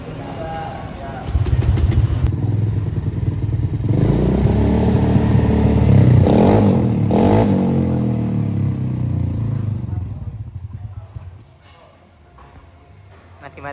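A hard-starting motorcycle cranks and then revs, a loud rough engine roar building and holding for several seconds before dropping away, with a voice talking over it.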